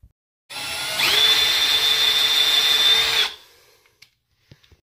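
A power drill whines loudly and steadily for about three seconds, drilling off a Delta faucet handle with a stripped set screw, then stops, followed by a few faint clicks and taps.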